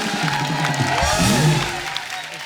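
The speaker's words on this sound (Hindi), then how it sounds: "एक बार जोरदार तालियां ऋतिक रोशन साहब के लिए।" A studio audience claps for actor Hrithik Roshan on a television comedy show, a short burst of crowd applause that swells and then tapers off, with a voice briefly heard over it.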